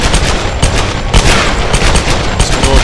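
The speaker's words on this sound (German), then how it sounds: "So kennen wir das, schön mit zwei Pistols. Dauerfeuer" Rapid continuous dual-pistol gunfire from the Tomb Raider video game, a loud dense stream of close game gunshots with no talking.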